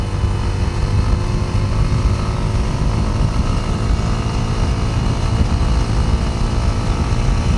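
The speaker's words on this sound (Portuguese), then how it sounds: "Vou acelerar aqui, ó." A Dafra Apache RTR 200 motorcycle engine pulling hard under acceleration while riding, a loud, steady droning roar with wind rush that holds constant for the whole stretch, no talk heard.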